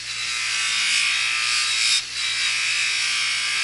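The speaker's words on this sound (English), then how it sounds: "now we'll switch over to the other wheel on the other side of the grinder. Use a little bit of green compound on it." A bench grinder's buffing wheel loaded with green compound, used in carbon steel knife restoration, runs with a steady, loud high whine and a brief dip in the middle.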